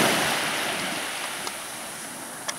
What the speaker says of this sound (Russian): Прибой. Штиль.